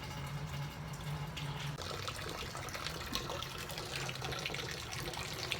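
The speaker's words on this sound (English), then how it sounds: "using the tin foil method there, adding sparge water on top of the grains" Hot sparge water at 170 degrees is poured over grains through tin foil during a home brew day, making a steady close trickling and splashing of liquid with no talking.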